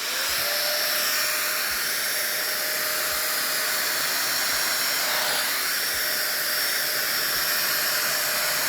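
A 5 in 1 hot air hair styler, a budget Dyson Airwrap dupe, running steadily with a loud, constant high-pitched blowing whine and a faint low ticking, heard alone at close range.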